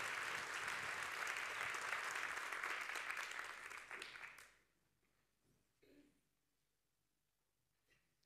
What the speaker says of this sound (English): would you please welcome to stage, with the biggest possible round of applause, our next double-barreled TEDx talks